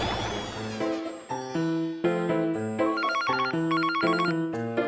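A telephone rings for an incoming call on a studio dating show, a bright melodic ringtone with chiming, bell-like notes that repeats steadily and clearly for several seconds.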